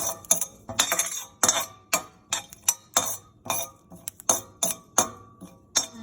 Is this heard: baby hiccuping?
no